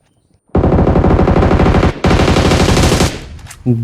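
Loud, close automatic gunfire in a shooting video game: two long, dense bursts of rapid shots split by a brief pause, then a short tail of sputters and clicks.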